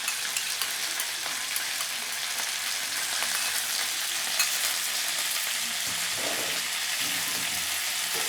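Ground onion and green chili paste frying in a pan, a steady bright sizzle that holds evenly throughout, with faint stirring.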